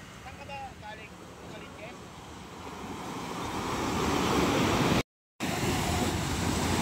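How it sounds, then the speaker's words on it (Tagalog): Steady roar of ocean surf and wind buffeting the microphone at a fish terminal in Tanza, Cavite, swelling louder toward the end, with faint distant voices early on. "At medyo malaki ang gulong ng alon ngayong umaga"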